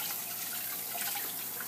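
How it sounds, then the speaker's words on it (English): Water splashing and trickling while a dental rubber mixing bowl is rinsed with water scooped from a bucket, a steady close, soft wash of liquid with no voices. "So I clean it even with the water that I have here in the bucket"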